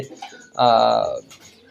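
A laying quail on a farm gives a single clear, drawn-out call lasting about half a second, close and prominent, between quieter murmurs.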